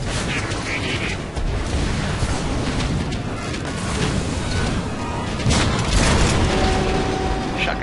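Gunfire aimed at fans in Transformers: War for Cybertron, a loud, continuous barrage of booming shots and mechanical clatter with no pauses, alone without talk.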